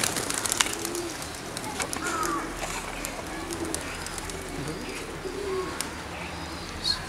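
Pigeons coo softly and repeatedly inside a shop selling pigeons, mixed with a few chirps and a busy room background.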